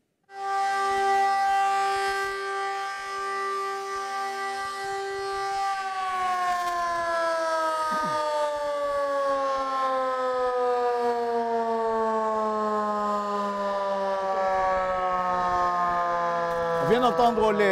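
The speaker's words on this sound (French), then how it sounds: "On vient d'entendre les sirènes retentir." Civil defense sirens sounding loud and continuous during a disaster drill, a steady wail that begins abruptly and then slowly sinks in pitch over a long sustained tone.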